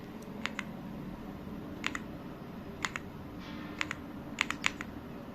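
Keys pressed on an AULA F75 wireless 75% gasket-mounted mechanical gaming keyboard, a few sharp close clicks in small clusters with pauses between, over a quiet background hum.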